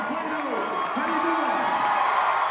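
At a Beto O'Rourke rally in Texas, a crowd of supporters cheers and whoops in a dense, sustained roar. Rising and falling shouted voices ride over a steady wash of noise.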